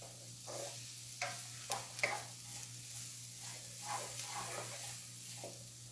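Onion frying in a pan, a low steady sizzle with light scraping and stirring taps, quiet and close over a faint electrical hum.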